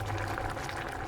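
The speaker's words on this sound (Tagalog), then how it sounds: "Lakasan natin temperature para kumulog agad." Liquid bubbling in a pot on an electric stove turned to high heat, a steady low rolling simmer with fine bubbling throughout, moderately quiet and close.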